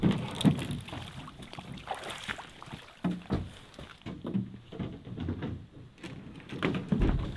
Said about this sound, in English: It's been a relaxing day of paddling today.